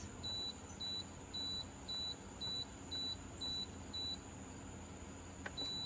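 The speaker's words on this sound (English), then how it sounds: "Then I'm going to set my timer" A pressure cooker set to cook beans gives out a run of eight short, evenly spaced electronic beeps while its timer is set for thirty minutes. A faint click follows near the end.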